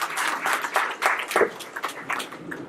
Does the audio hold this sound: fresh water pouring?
no